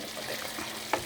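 Eggplant and chili frying in a pan while being stirred, a soft continuous sizzle with a brief scrape of the utensil near the end, and no talking.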